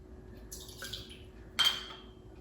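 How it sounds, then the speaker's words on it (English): Rye whiskey poured into a mixing glass for a Manhattan, heard as two short, quiet splashy pours with a thin liquid hiss, the second one sharper and brighter, with no talking. "Mixing glass, and we're gonna start with 2 ounces of rye whiskey."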